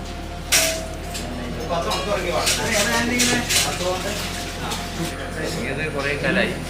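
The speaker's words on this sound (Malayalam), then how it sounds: "ഇത് ഇവിടുത്തെ അടുക്കള അപ്പോൾ ഈ ഇരിഞ്ഞെടുത്ത ചക്ക എന്നുള്ള ചമണി ഇതെല്ലാം മാറ്റുന്ന പരിപാടിയാണ് ഇവിടെ നടക്കുന്നത് അപ്പോൾ ഇവിടെയാണ് പാചകം" Pots and metal utensils clatter and clink steadily in a busy kitchen at a math during the Kottiyoor temple festival, where cut jackfruit is being prepared, with voices talking throughout over the nearby cookware noise.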